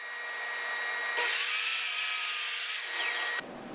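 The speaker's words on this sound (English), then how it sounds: "Next, I cross-cut these blanks to final length at the sliding miter saw." A sliding miter saw cross-cuts a wood blank to length, the motor spinning up loudly, the blade biting through for about two seconds, then the whine cutting off abruptly.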